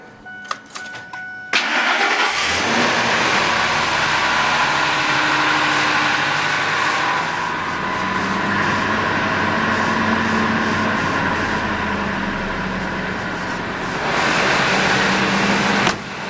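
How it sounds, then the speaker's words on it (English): A 2000 Ford F150 4x4 with a 5.4L Triton V8 cold starts: a few brief clicks, a short cranking whir, then the engine catches and settles into a loud, steady, fairly quiet idle with slight rev swells, close by, no talking. "we're gonna go ahead and do a little bit of a cold start here"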